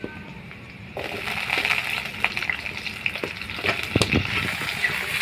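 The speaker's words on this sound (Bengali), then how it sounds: "পেঁয়াজটা লাল লাল ভাবে ভাজা হয়ে গেছে, এবার কেটে রাখা আলুগুলো দিয়ে দেব।" Cut potatoes drop into a pan of onions fried until reddish-brown, raising a steady close sizzle and crackle of frying with a few louder stirring clatters.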